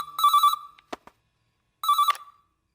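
A telephone rings in a comedy film scene: two loud electronic trilling bursts separated by a brief click and a pause of silence, with no voices.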